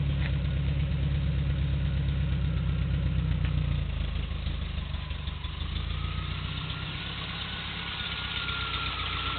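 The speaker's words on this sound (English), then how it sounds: "Just a tiny bit of lifter noise, but it's a solid lifter engine, overhead camshaft, so they're never dead quiet." A 1980 Triumph TR7 with a solid-lifter overhead-cam engine idles steadily, a low even rumble with a faint ticking of lifter noise throughout, close and alone.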